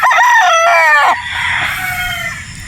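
Gamefowl roosters crowing at a game farm in Batangas, one loud near crow with a long wavering tail followed by fainter, more distant crowing from other birds.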